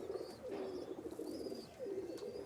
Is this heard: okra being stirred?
no